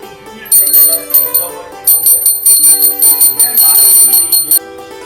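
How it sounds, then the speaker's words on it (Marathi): A child rings a small prayer bell in quick, bright bursts of rapid strikes with ringing overtones, pausing briefly between runs during a home prayer. "मी घंटी वाजवणार"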